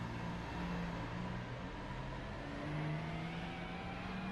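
Ferrari 296 engine in the iRacing sim holding a steady mid-pitched drone with faint harmonic whine, continuous and moderately loud throughout a rolling start, without talk.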